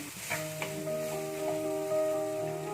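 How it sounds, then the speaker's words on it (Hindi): Spiced potato mixture for samosa filling, with coriander, chili, salt and turmeric, stirred in a pan with a couple of scraping strokes under a steady sizzle and a sustained tonal ring, no talk. "मिला ले इसे, मिक्स इट।"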